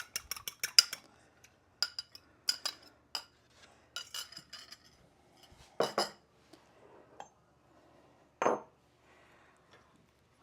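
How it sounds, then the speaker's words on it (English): A whisk or fork beats an egg for bread dough in a bowl, giving a quick run of close, sharp clinks against the dish that then thins into scattered taps and scrapes, with no talking. "so I beat the egg"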